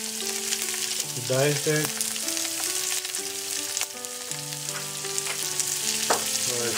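Diced onion sizzles in hot oil with fennel seeds and curry leaves while celery upma is cooked, a steady close frying hiss under a few brief spoken words.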